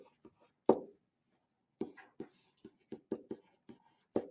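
Marker or chalk strokes on a classroom board during an algebra lesson on multi-step equations: short, sharp taps and scrapes come in irregular bursts, close and clear, with no talking.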